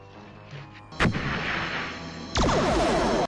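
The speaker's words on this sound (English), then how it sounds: "That was quite a grenade launcher." Grenade launcher blasts from the Star Trek episode Arena: two loud, sharp explosions about a second and a half apart, each followed by a lingering roaring rumble, with no speech.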